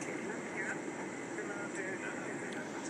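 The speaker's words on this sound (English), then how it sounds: "and the aircraft starts flying" Airbus A330 jet engines during takeoff from Dublin, heard from the cockpit as a steady, fairly faint broadband roar and hum as the aircraft lifts off.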